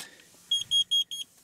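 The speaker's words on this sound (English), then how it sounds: "what I accidentally just hit there is the carbon monoxide alarm" A carbon monoxide alarm inside a truck bed camper gives four loud, evenly spaced high-pitched beeps at close range, with no talking.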